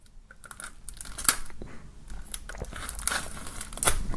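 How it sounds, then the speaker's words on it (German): Plastic shrink wrap is peeled and torn off a sealed music album, making close crinkling and crackling rustles with sharp tearing snaps, without any talking. "Wir werden dieses Mal aus der Folie befreien."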